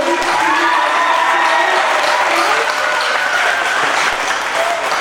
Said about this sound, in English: one more round of applause for the Hawthorn